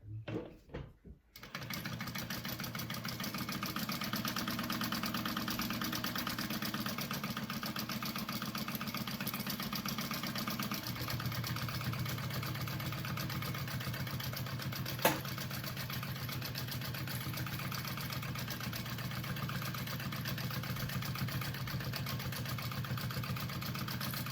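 A sewing machine bastes fabric lining pieces together in a steady, even mechanical hum that runs almost unbroken after a short start, with a single sharp tick partway through.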